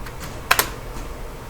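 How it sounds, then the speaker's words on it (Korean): A computer keyboard is used while drawing lines in CAD software, giving two quick, close key clicks in a quiet room. "이번엔 L 누르고 엔터 아니고 스페이스 바요."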